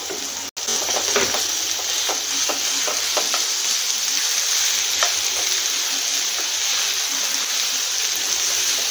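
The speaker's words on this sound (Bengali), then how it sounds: "মাংসটা হালকা ভেজে নেব" Chicken meat sizzles steadily in a hot pan, a constant bright hiss with occasional pops and stirring clinks.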